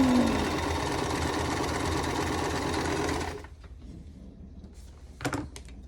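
A sewing machine runs at a steady, fast stitching rhythm while piecing quilt block fabric. It stops abruptly after about three seconds, leaving quiet handling noises and one brief clatter.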